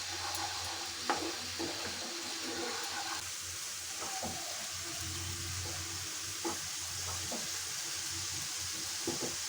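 Spice masala of onion and garlic paste, coriander powder and Kashmiri chilli fries in oil for a doi rui curry, giving a continuous close sizzle with occasional light clinks of stirring.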